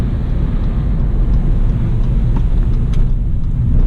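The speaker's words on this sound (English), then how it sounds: "transmission kind of disengages because the engine is basically idling right now" A 2017 Acura ILX coasting with its engine idling gives a steady, loud low rumble of road and engine noise from inside the cabin, continuous and even throughout with no voices.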